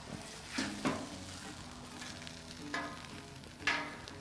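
Burger patty and onions frying on a hot flat surface give off a low, steady sizzle, broken by three or four sharp scraping bursts as they are flipped with a spatula.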